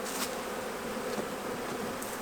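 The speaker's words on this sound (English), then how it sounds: "get this bee out of my veil that's driving me nuts" A bee buzzing steadily inside a beekeeper's veil, close up and continuous, during a January hive inspection with no talking.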